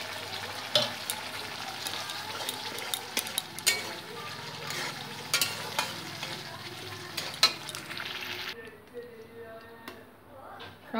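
Dalia being added to a pot of cooked lentils on a gas stove and stirred, with repeated clinks and scrapes over a soft sizzle that drops away near the end, a voice briefly heard.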